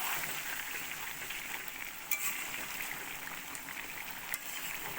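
Chicken pieces sizzle in oil while being cooked down for chicken kasha, a steady close frying hiss with a couple of brief clinks, no voices.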